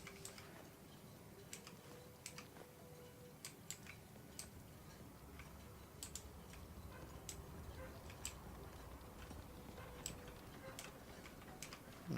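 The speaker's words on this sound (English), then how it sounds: "Alarm clock." An alarm clock in Fallout ticks steadily and faintly in a regular rhythm, with quiet background noise and no talking.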